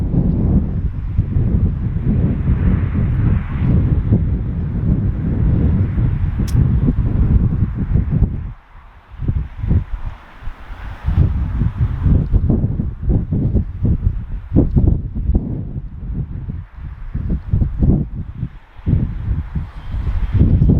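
Strong wind on a warm autumn day buffets a microphone outdoors, a loud, continuous low rumble that drops briefly, then returns in gusty, uneven surges, with no voices.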